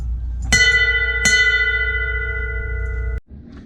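A newly installed bell aboard a sailboat is struck twice, each clear metallic ring sustaining a long, bright tone before being abruptly damped, over a steady low engine-like hum.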